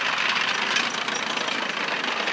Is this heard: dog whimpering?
no